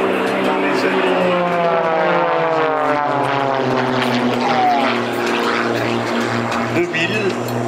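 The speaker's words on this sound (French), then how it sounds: "c'est elle qui est là-haut dans le premier de ces deux avions de voltige" Two aerobatic propeller planes fly overhead at the La Ferté-Alais airshow, a loud sustained engine drone with shifting pitch sweeps as they pass, while a commentator talks throughout.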